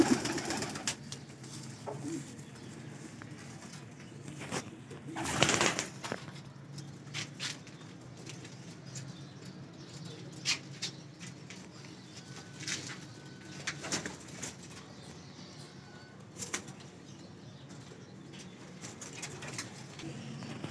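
Baby pigeons of the Teddy breed in Lahore give soft, scattered coos and low calls among faint rustling and occasional sharper knocks, quiet and close.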